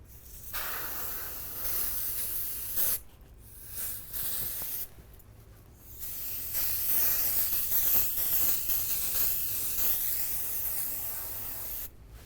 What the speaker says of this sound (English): I'm gonna start with spraying some temporary adhesive spray freely